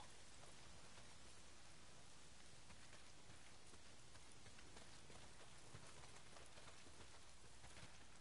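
Steady, even rain pours down in the Days Gone video game, a dense continuous hiss of drops on surfaces, faint overall with no voices.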